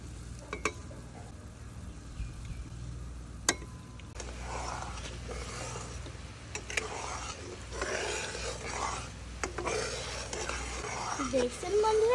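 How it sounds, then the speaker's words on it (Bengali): Coca-Cola and sugar boil in a pan while being stirred, giving a soft continuous bubbling sizzle with scraping strokes and occasional clinks, fairly quiet and close. "কোকে কি সুন্দর বলক উঠে গেছে"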